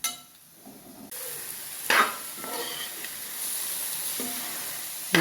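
Masala with garam masala and fennel powder fries in a pan, a steady close sizzle and hiss, broken by a few stirring scrapes and clinks of a spoon.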